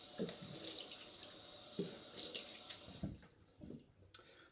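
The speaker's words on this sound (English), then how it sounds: "put some more water on my face" Water splashing in a sink while a man rinses his face before another shaving pass with a vintage safety razor, coming in short close bursts of splashing and dripping, with no talk.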